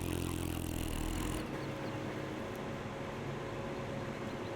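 Tractor engine running in Farming Simulator 15, a steady droning rumble that is loud and thick for the first second and a half, then drops to a lower, continuous hum with no talk.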